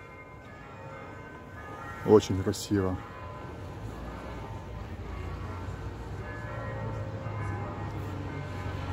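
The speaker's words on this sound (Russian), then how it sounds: "в колокола звонят. Это Горницкий монастырь. Русский. Очень красиво звенят." Church bells ring at the Russian Gorny monastery in Ein Karem, Jerusalem, a bright cluster of strikes around two to three seconds, then a ringing wash over the evening valley while a voice speaks briefly.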